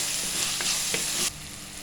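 Chopped onions and tomatoes sizzle steadily in a hot clay pot, with a few soft stirring scrapes, until the frying noise drops away abruptly near the end.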